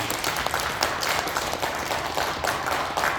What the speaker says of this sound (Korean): 패널분들께 큰 박수 부탁드립니다.